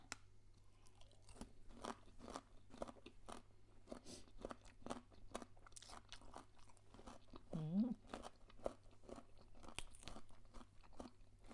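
Close, quiet crunching and chewing of crunchy som tam papaya salad with khanom jeen noodles, a steady run of rapid bites and mastication with a faint hum beneath.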